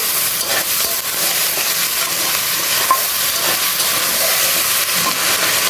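Onion flower stalks fry loudly in a pan for a fish curry, giving a dense, continuous hissing sizzle with faint stirring throughout.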